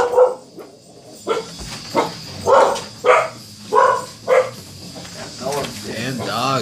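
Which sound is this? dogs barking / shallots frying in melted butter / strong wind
dogs barking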